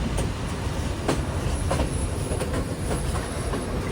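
Night mail train running between Ella and Badulla in Sri Lanka, heard on board: a loud, continuous rumble with rhythmic clickety-clack of wheels over rail joints and brief metallic squeals.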